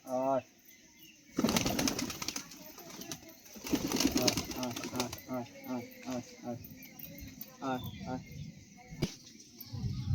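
Pigeons, including two fearless ones, gather and flutter while being hand-fed and then fed on the ground, with repeated bursts of wing flapping and soft cooing. Someone talks and calls to them throughout.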